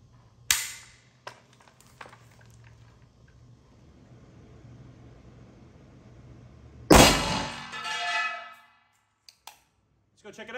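A PSA AK-74 in 5.45x39 is fired at a steel armor plate outdoors, giving one sharp report early on, a few faint clicks, then a loud crack with a ringing, decaying tail and small sounds afterward.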